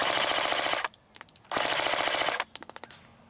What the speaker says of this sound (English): About 900 rounds per minute with full auto.